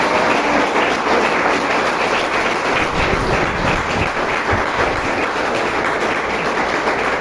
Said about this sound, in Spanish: Apláudele a Él